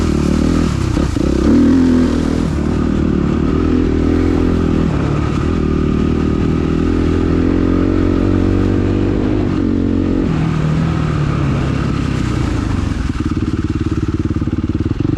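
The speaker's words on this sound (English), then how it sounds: "Clutch makes a lot of noise when you're engaging. Kind of a lot of rattle there." A motorcycle engine with a Rekluse clutch idles and revs continuously up close, with a metallic rattling clatter from the clutch running through it for the whole stretch.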